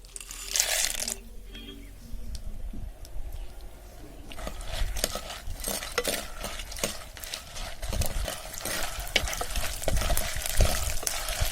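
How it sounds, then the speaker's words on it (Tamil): Dried turkey berries (sundakkai vathal) frying in hot oil give a steady crackling sizzle throughout, with occasional stirring scrapes and brief louder pops near the end, with no voices present. "இந்த எண்ணெய் காஞ்சதும் நம்ம வச்சிருக்கிற சுண்டக்காய் வத்தலை இதுல சேர்த்து முதல்ல பொரிச்சு எடுத்துக்கணும்"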